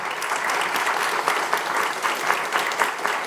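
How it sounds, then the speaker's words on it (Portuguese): An audience at a healthcare AI talk applauds, dense clapping from many hands, close and steady for a few seconds with no voices over it. "gostaria de pedir uma salva de palmas para a nossa audiência"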